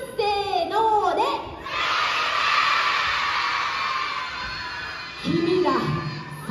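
Crowd of young elementary school children shouting together loudly at a school talk, a sustained burst of mixed yelling voices for a couple of seconds, framed by someone speaking before and after.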